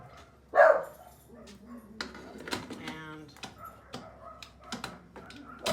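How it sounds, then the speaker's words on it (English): Dogs bark in short, scattered bursts, one loud bark early on and several quicker, fainter yips afterward, with a person speaking nearby. "my dogs are barking, sorry about that"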